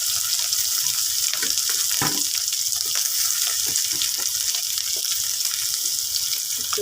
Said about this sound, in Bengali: এখন আলু ভাজলাম